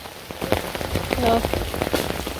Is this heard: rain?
yes